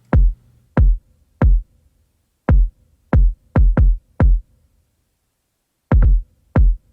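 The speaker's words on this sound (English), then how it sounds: "next up we have our kick pattern, which sounds like this" A programmed trap kick drum pattern built in Cubasis 3: ten loud, punchy, booming low thumps in a syncopated, irregular rhythm with short silences between, some hits doubled close together.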